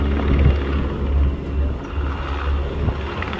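A camouflaged Sokol helicopter flies in formation at an airshow, its steady rotor and engine drone sounding fairly close and continuous, with no talk over it.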